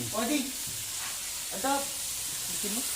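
Squid sizzles and spits in a hot pan alongside tomato and onion, a steady frying hiss under someone speaking.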